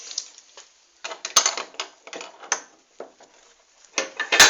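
A bench vise is tightened onto a Wellgo V8 bicycle pedal: a few scattered metallic clanks and short ratcheting clicks, close and fairly quiet, with a louder clunk at the end and no talk.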